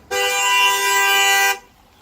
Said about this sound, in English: Fucking honking at me.